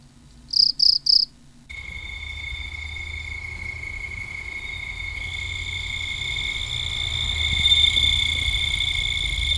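Bell cricket chirping at night, a steady, clear high-pitched trill that carries on continuously and grows slightly louder, heard alone over a low background hum after a few brief beeps.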